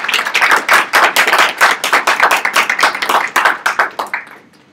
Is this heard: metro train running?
no